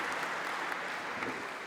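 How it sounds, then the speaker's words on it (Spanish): An audience at a panel forum session applauds a panelist, a steady wash of clapping from many hands that is moderately faint and continuous throughout. "por favor, un fuerte aplauso aquí a Leopoldo"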